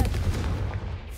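The Confringo blasting spell explodes in Hogwarts Legacy, a short, loud, rumbling boom that fills the whole moment without a break.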